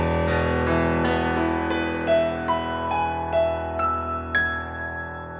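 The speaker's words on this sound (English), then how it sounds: "Then in mint tuning, it sounds like this." Piano played in perfect tuning, rolling sustained notes struck one by one over a held chord, steady and close, with crisp attacks and no voices.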